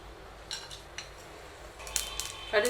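Faint crackling pops and spits from mustard seeds spluttering in hot oil, scattered irregularly over a low steady hum.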